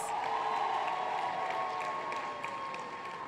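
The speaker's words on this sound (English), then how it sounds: "Give yourselves a big round of applause" An audience at an evening family planning conference gala applauds at a moderate distance, the clapping blended with a faint crowd murmur and a lingering tone, fading slightly toward the end.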